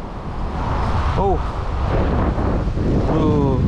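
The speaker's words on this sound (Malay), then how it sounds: "Kalau hampa dengar bunyi angin tu." Strong wind roaring over the sea beneath the second Penang bridge, a loud constant rush of wind noise on the microphone, with a brief whistling chirp and a faint tonal sweep in the background.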